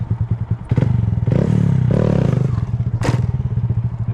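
Motorcycle engine idling in a low chug, then revving hard as the clutch is popped for a wheelie, the loud surge held for a couple of seconds before dropping back to the rhythmic idle, with a sharp thump near the end.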